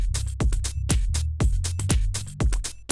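Deep house kick drum produced in Ableton, a loud punchy low thump repeating in a steady four-on-the-floor pulse with sharp attacks, alongside hi-hat style percussion and other drum hits, no voices.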